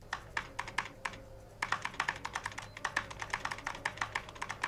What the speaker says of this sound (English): He's typing so weirdly, but so fast at the same time.